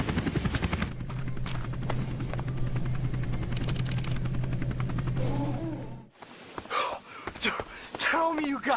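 A helicopter flies overhead with a loud, steady rotor drone that carries on for several seconds while voices gasp and call out over it, then it cuts away to close, excited shouting.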